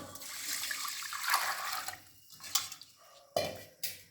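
Water poured from a vessel onto washed rice in a cooking pot for coconut-milk rice porridge, a steady splashing pour with a few short gushes, close and alone.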